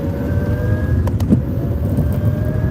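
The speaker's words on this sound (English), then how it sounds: "You hear that revving?" Car engine revving, a steady rumbling engine drone close by with a few brief sharper bursts midway and no one talking.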